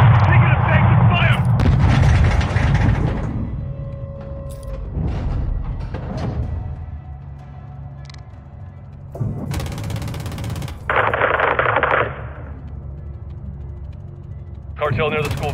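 Call of Duty: Modern Warfare 2 firefight with loud bursts of gunfire and heavy booming shots that come in separate clusters, mixed with shouted voices and battle noise.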